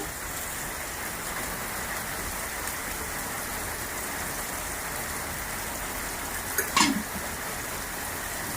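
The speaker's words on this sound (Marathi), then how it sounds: "आता फोडणी देत आहे मी" Spices tempering in hot oil for a pot of dal with turmeric and salt, a steady close hiss and crackle with a brief louder burst of sizzling near the end.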